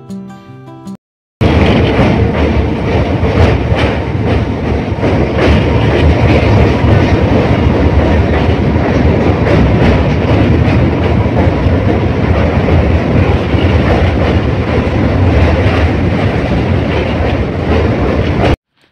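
A local train at Bandel station rumbles past up close, loud and continuous, with rhythmic clickety-clack of wheels over rail joints after a brief quiet start.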